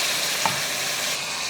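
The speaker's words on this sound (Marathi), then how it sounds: "आणि हे तेलावर चांगलं 3-4 मिनिटं परतून घेऊयात." Mutton pieces sauté in hot oil with ginger-garlic paste in a pan for a Kolhapuri meal, a brief, loud, even sizzling hiss close up with one small knock partway through.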